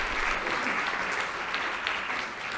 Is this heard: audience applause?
yes